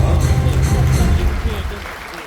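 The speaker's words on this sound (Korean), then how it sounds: "소개해드린 모든 분들께 다시 한번 뜨거운 박수 부탁드립니다" A Daejeon Convention Center ballroom audience at a book concert gives applause for the just-introduced guests, a loud burst of clapping that gradually fades over about two seconds.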